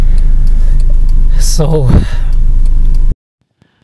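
A restored car on a test drive rumbles steadily, its engine note rising and falling, while a person speaks briefly over it before the sound cuts off abruptly.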